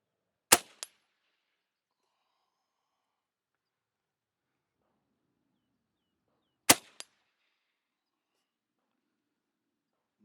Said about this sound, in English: So this air gun is living up to its expectations. It is sending lead down range at just an amazing amount of speed.